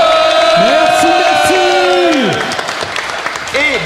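A loud audience in France applauds and cheers, with shouts and whoops rising over dense clapping before the noise eases slightly near the end.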